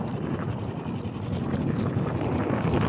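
A small boat engine runs steadily out on open water, a continuous low rumble mixed with heavy wind buffeting the microphone.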